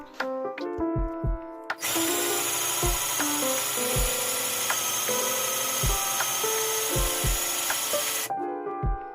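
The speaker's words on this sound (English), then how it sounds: "The drill started to die." Cordless drill boring holes into wood for a rustic garden toolbox, a steady close whine lasting several seconds, bracketed by short knocks and handling clatter.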